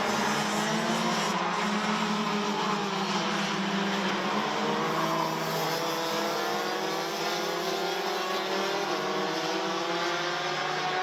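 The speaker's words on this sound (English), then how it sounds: "Drivers now go onto their formation lap." DD2 race karts on their formation lap at the Genk track, a dense, continuous engine drone with rising and falling pitch sweeps as several machines pass, steady and fairly loud with no voices.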